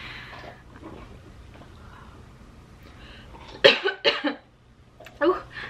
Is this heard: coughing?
yes